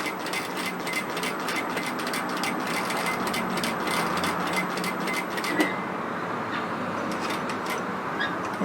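A sewing machine stitches a line in nightgown fabric, running in a fast, steady mechanical clatter for several seconds before stopping. It sounds close and clear, with no talking.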